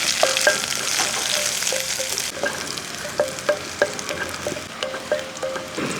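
Chopped shallots, dried red chillies and curry leaves fry in a pan for a Kerala-style chammanthi, giving a steady sizzle with repeated scraping and clinking stir strokes, close and without speech.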